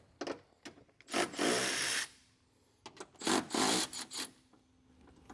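Tool work on the power frunk mount of a Tesla Model Y, loosening the fitting: a series of close, loud rasping and scraping bursts with short pauses between them, plus a faint steady hum, no talk.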